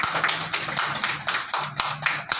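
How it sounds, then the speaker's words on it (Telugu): Audience applause at a Telugu community gathering honoring Babasaheb Ambedkar, a crowd of hands clapping in a steady dense patter with irregular sharper claps standing out, fairly close and continuous throughout. "సపట్లు కొట్టండి."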